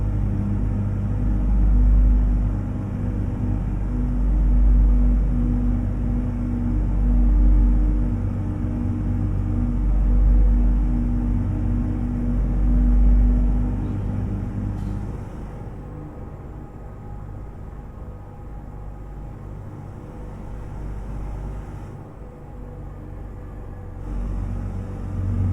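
A 14-liter Detroit 60 series diesel in an International 9800 cab-over truck in American Truck Simulator drones with a steady, loud low rumble, easing slightly quieter about halfway through.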